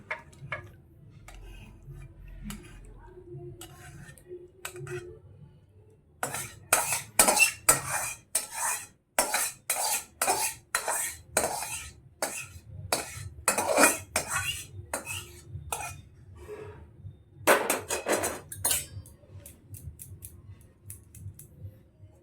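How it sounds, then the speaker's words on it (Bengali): Aloo dum, a thick spiced potato curry, is transferred into a serving bowl with a spoon. Close metallic clinks and scrapes come in quick irregular bursts against a quiet background. "এবার আমি আলুর দমটা একটা পাত্রে ঢেলে নিচ্ছি"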